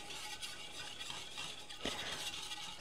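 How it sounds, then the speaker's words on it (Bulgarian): Custard cream of milk and eggs being stirred continuously in a pot on the stove, a steady soft scraping and swishing with a faint clink partway through, moderately quiet and close. "Стоя до котлона и бъркам непрекъснато, докато се сгъсти."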